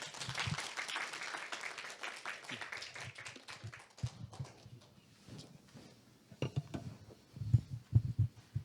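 An audience applauds after a lecture at a psychological counselling forum. Dense, moderately loud clapping fills the first few seconds, then thins to scattered claps and dies away, followed by a few dull low thumps.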